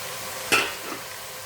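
Vegetables sizzling in a pan of softened tomato, a soft steady fry with one sharp close clink of a utensil partway through.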